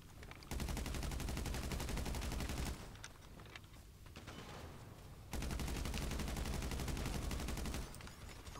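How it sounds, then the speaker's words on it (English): Gunfire in GTA 5 Online comes as two long stretches of rapid automatic fire with a quieter gap between them, loud and sustained, with no talking. "He is shooting."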